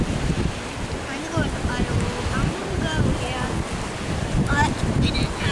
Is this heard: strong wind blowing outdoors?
yes